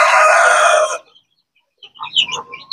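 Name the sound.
chickens and rooster crowing at poultry farm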